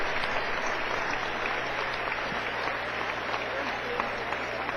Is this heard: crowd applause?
yes